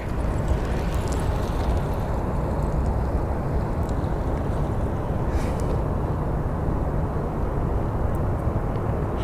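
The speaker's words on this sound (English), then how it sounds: "on our takeoff roll, we have American 2122" An American Airlines airliner on its takeoff roll at Phoenix Sky Harbor produces a steady, broad roaring rush of jet noise heard from a distance, constant throughout with faint crackle on top.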